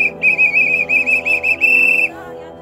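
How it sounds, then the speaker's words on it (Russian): A small whistle is blown in a rapid series of shrill, warbling trills lasting about two seconds, loud and close, on a hike to Dyatlov Pass. "у вас свисточек даже. Вы посвистываете?"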